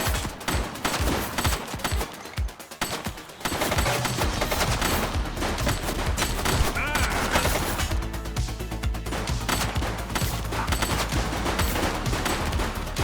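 Gunshots in the video game The Precinct: scattered loud cracks at first, then a sustained rapid volley of automatic-style fire, dense and close, continuing without pause.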